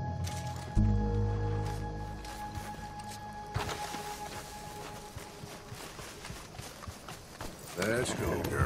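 Horse hooves clip-clop at a steady walking rhythm in the Red Dead Redemption 2 video game, fairly close and moderately loud, mixed with game ambience and music, with people talking over parts of it.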